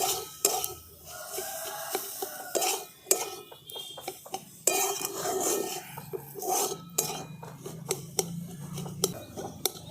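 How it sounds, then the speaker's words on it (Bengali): Boiled potatoes and chopped coriander leaves are mashed and mixed for a kachori filling, with irregular close scraping, clinks and thuds of utensils against a pot or bowl, no voices. "এরপর আমি দিয়ে দিচ্ছি কেটে রাখা ধনে পাতা সব একসঙ্গে ভালো করে মিশিয়ে নিচ্ছি"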